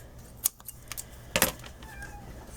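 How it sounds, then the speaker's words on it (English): A pet cat named Watson gives a couple of short, faint meows indoors amid light rustling and small clicks, with no talk. "You guys hear that meowing? That's my kitty cat, Watson."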